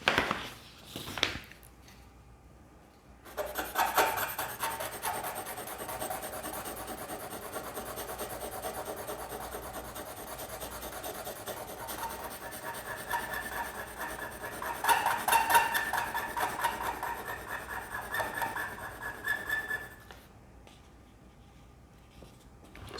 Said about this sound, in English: So you go down to the 2000